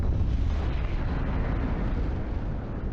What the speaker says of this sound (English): Suddenly, a low rumble shook the building.